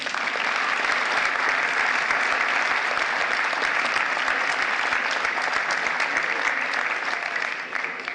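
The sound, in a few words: applause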